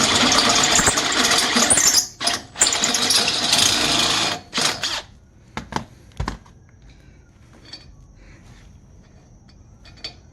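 A power drill with a 1/4 inch bit and a step bit whines loudly through metal in bursts, stopping and starting several times, then falls quiet with only faint handling noises.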